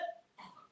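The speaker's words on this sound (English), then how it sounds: "there's coughing, spluttering in there." Someone coughs and splutters, two short rough bursts separated by a brief pause, quiet and fairly close, with no speech.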